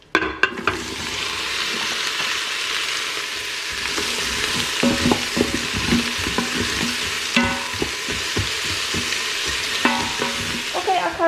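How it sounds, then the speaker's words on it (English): Onions frying in a pot for an Italian beef stew: a steady, even sizzle throughout, broken by occasional scraping, clattering stirs of the utensil against the pot. "Next we're going to be adding all our onions and frying up until gold"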